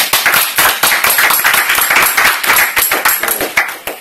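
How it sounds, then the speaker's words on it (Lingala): A church congregation claps together during a worship service, dense rapid applause close by, steady and loud for the whole stretch with no talking. "Après applaudir pour la gloire de Jésus."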